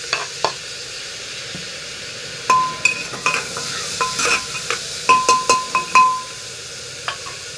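Onion sautés in a pan for khichdi, a soft sizzle under a series of sharp metallic scrapes and clinks from stirring, close by and irregular, with no talking.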